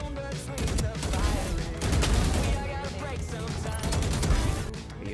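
Rapid bursts of gunfire in a tactical shooter video game, loud and dense over several seconds, with excited players talking over the shots.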